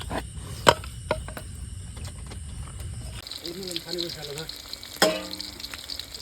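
Fish frying crisp in oil crackles and sizzles with sharp spatula knocks and stirring scrapes. A voice speaks over it in the second half.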